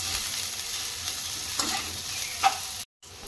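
Tomato-and-spice gravy frying in a pan gives a continuous sizzle, broken by a couple of stirring scrapes and a brief cut to silence near the end.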